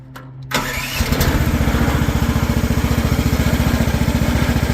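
A Chinese excavator's engine cranks briefly, catches and settles into a loud, close, rapid rhythmic diesel idle with no talking.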